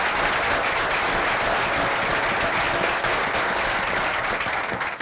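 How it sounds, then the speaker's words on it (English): Steady round of applause from an audience at a press conference, many hands clapping in a dense, even wash that holds throughout. "Let's give them a round of applause"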